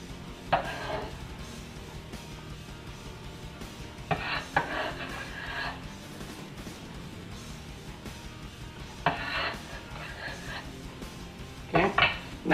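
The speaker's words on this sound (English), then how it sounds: "take a nice clean bowl and drop the cabbage in there" Chopped cabbage is tipped into a clean bowl, making a few bursts of rustling, clattering drops and knocks against the dish, separated by quieter stretches.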